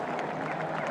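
A gallery crowd at the PGA Championship claps and cheers for a golf shot. The applause is steady and fairly distant, with no individual voices standing out.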